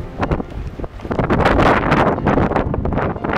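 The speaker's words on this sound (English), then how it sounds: "It's getting pretty windy." Strong Hurricane Ophelia wind in Ireland roars and gusts against the microphone, a close, loud rumbling with rustling bursts and no talking.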